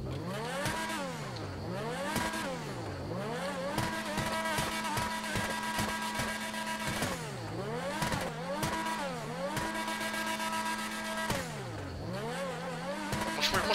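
A car engine in GTA V revs repeatedly through rising and falling gear shifts, a loud, continuous synthetic-sounding engine whine with no talking.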